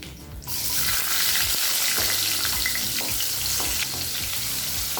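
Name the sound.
tempering asafoetida, curry leaves, dried chillies, shallots in oil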